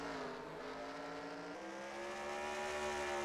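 Race cars in the Superstar Racing Experience video game at Slinger roar around the track in a sustained, rising engine drone, several cars close together racing for the lead.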